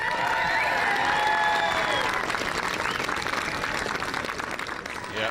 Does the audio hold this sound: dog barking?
no